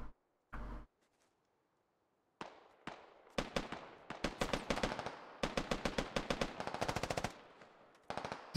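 Rapid automatic gunfire from a first-person shooter game, Operation: Black Ice, comes as loud bursts and sustained strings of shots, with a couple of single shots early on and a brief pause before a final volley.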